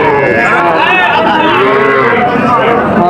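Cattle low loudly and continuously at a busy livestock market, several overlapping moos close by with faint crowd chatter underneath.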